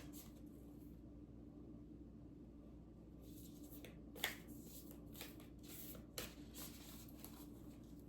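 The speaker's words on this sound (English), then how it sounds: "Let's just do a really good shuffle here and get a good one." Soft riffling and flicking of a card deck being shuffled, quiet and close, with a few sharper snaps toward the end.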